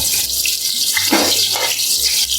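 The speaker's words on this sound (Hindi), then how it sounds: "प्याज को हम सुनहरा फ्राई होने देंगे।" Sliced onions for pulao sizzle in a pan of hot oil, a dense, steady hiss that stays loud and close throughout.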